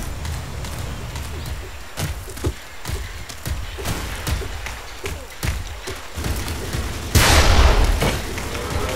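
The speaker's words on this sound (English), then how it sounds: "I love these long range shots that I just do with my rocket launcher" Rocket launcher shots fired at long range in the video game Ace of Spades 2 come as repeated sharp thumping blasts in an irregular series, ending with a louder burst of rushing noise near the end.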